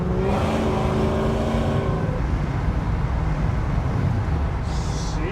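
A modified muscle car cruising down the road, its engine holding a deep, steady rumble close by at an easy throttle, with a low drone continuing throughout.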